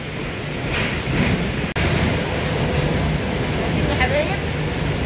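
A metro train riding along, with a steady, loud roar of rumble and rushing noise throughout. One brief dropout comes partway through.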